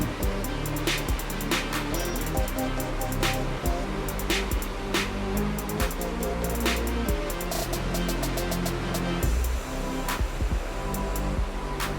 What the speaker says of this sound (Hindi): यहाँ पर पानी के कुदरती वर्लपूल देखे जा सकते हैं।